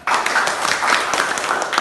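Steady applause from a classroom audience at a university teaching-practice session, dense continuous clapping for about two seconds with no talk.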